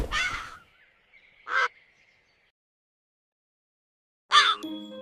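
Two short cawing calls from a crow, then a pause of silence before another harsh caw, each call brief and fairly close.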